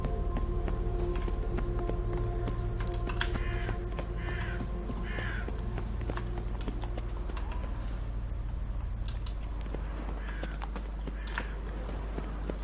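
Horse hooves clip-clop at a steady gait in The Witcher 3, with crows cawing and a low ambient drone running throughout.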